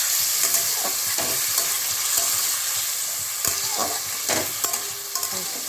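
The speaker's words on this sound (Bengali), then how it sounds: "আমি রসুনটা একটু দিই, অল্প জল দিয়ে দিলাম, দিয়ে কষাচ্ছি।" Garlic sautés with a splash of water as it is stirred, loud and close, alongside carp from a pond. A continuous sizzle is punctuated by repeated sharp scrapes and taps of a spatula against the pot, and nobody speaks.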